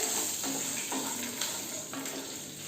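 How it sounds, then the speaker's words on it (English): Tamarind extract for temple-style pulihora rice poured into a pan with roasted peanuts, a soft continuous watery trickle and splash, fairly faint and steady. "At this stage, I am going to add our tamarind extract"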